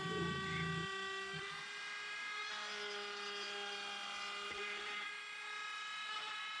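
A Dremel rotary tool fitted with a cone bit carves a wood spirit nose, giving a steady high-pitched whine that dips and rises slightly as the bit bites the wood, close and continuous with no talk.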